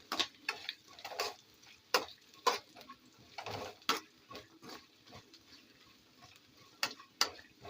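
Grated coconut frying in a pan for beef roast, with soft sizzling under repeated scraping and tapping from a spatula stirring at an uneven pace, fairly quiet and close.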